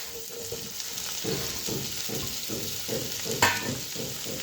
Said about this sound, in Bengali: তো এখন দিয়ে দিব কাঁচা লঙ্কা কুচি আর টমেটো।